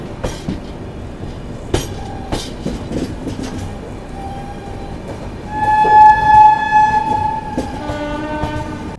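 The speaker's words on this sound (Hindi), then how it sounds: "लगभग 20 मिनट रुकने के बाद अभी हम लोग निकल रहे हैं" The Bundelkhand Express pulls away after a long halt, wheels clacking sharply over joints close by, while a sustained train horn sounds for a couple of seconds mid-way and again more faintly.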